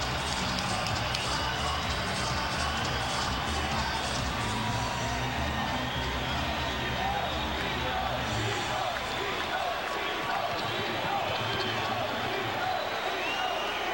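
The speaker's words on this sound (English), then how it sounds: "the crowd responds as they see the fighter approach the ring" A boxing arena crowd roars steadily as Felix Trinidad approaches the ring, a dense, continuous wash of cheering and chatter that stays loud throughout with no clear individual voice.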